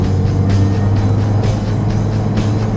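A Mini Cooper convertible with a manual shifter being driven through turns, a steady close engine drone and road rumble from inside the cabin, continuous and fairly loud with no voices.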